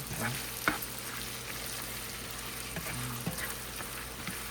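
Pork belly sizzles and spits in a hot pan, a steady frying hiss with a few louder pops and stirring scrapes, close and alone.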